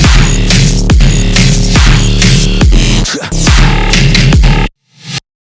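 Filthy dubstep bass, loud and dense, throbs in a steady rhythmic wobble with heavy low end and gritty upper harmonics, briefly dipping midway, then cutting out and returning as a short swell before stopping.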